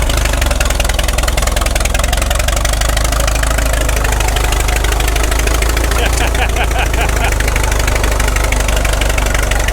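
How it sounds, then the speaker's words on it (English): The engine of an old Allis-Chalmers M dozer that had sat for years runs loud and close with a steady rough rumble and knocking throb, working continuously throughout without letup. "Senior's on the Allis and he's heading for the woods"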